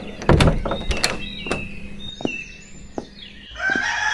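A few wooden knocks and clatters, then a rooster crows near the end, its call rising clearly over the quieter background.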